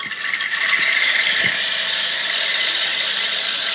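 Chickpeas poured into a handmade bamboo rainstick give a steady, dense rattling hiss that runs continuously and loudly up close, with no voices.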